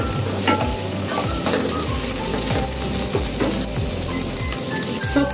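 Whole black peppercorns and spices lightly frying in a kadai, a loud, dense, continuous sizzle with rhythmic stirring scrapes running through it, close and without talk.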